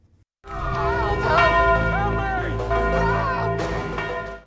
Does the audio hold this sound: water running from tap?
no